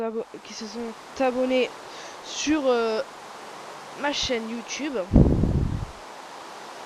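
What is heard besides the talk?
rain in Minecraft video game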